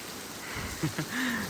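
Heavy rain pours steadily during a flood-level downpour in a Punjab village, a dense, even hiss close by with a couple of brief low knocks and no talking.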